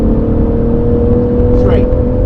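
Race car engine at Goodwood accelerating on throttle, a steady loud drone with a brief rising whine near the end, under close talk.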